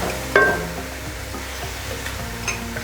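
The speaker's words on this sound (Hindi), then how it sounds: "इसको हम अच्छी तरह से हिलाकर मिक्स कर लेंगे।" Minced qeema frying with garlic ginger paste is stirred with a spoon in a hot pan, giving a steady close sizzle with scraping and clattering strokes throughout, no voices.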